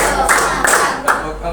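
A classroom group claps in a counted rhythm pattern, with short bursts of hand claps spaced evenly. A teacher's voice calls the count over the clapping.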